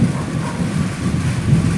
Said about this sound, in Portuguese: E veja também o barulho. Dos trovões.